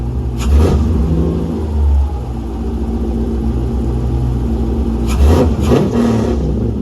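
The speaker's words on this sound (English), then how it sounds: "Now it's revving good." A V8 LS-swapped BMW E46 engine with a Holley Terminator X install revs sharply twice, near and loud, with a rumbling idle in between the bursts.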